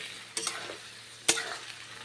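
Cauliflower frying in a wok for ghugni, with two short, sharp stirring scrapes and a brief sizzle over an otherwise quiet pan.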